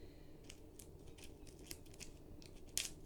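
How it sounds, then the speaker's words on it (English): Scissors snip quietly at a package, making a series of faint, crisp cuts spaced irregularly, with a sharper snip near the end against a soft room background. "Where's my scissors?"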